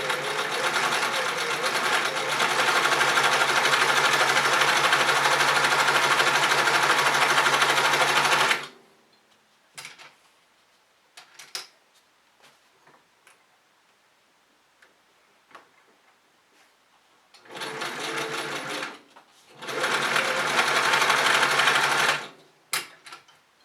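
A Touch-n-Sew sewing machine stitches through heavy 1000 denier Cordura nylon, running in a loud, steady buzzing burst, stopping for a stretch of quiet handling clicks, then starting again in two shorter runs with a brief pause between.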